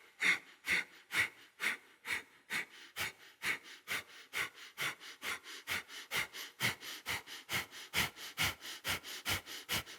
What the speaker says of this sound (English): Option 2, take Kapalabhati breathing.